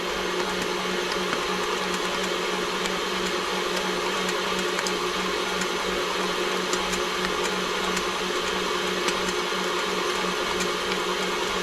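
Stand mixer with a dough hook kneading dinner roll dough at high speed, a loud continuous motor whine and hum with a steady mechanical rattle, unchanging for the whole stretch.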